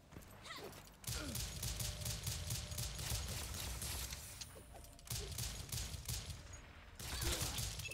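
Gunfire from the side-scrolling video game Rise and Shine crackles in rapid bursts, dense volleys of shots with short gaps between them, loud and up front over a low game rumble.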